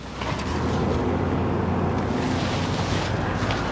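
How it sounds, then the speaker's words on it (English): A big gravel truck rolls past along a road by a state park in autumn, a steady loud rumble and roar with wind buffeting the microphone, no talking. "Big gravel truck went by."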